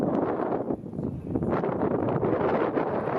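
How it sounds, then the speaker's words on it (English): Gusty wind blasting straight into the microphone at a varsity baseball game, a constant low roaring rumble that swells and dips slightly, with nothing else standing out. "Very windy here, we apologize."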